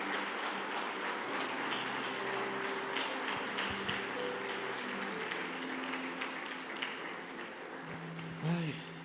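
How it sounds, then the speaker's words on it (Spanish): Congregation applause during a church service, a broad wash of clapping from many people in a large room, moderately distant, with a brief sharp sound near the end. "¿Por qué no le damos un aplauso fuerte a Jesús?"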